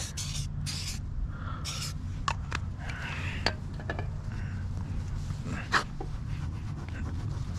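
Vinyl wrap remover is sprayed from an aerosol can onto a Mustang GT in a few short hissing bursts near the start, over a steady low background rumble. A few faint clicks and rubbing sounds follow.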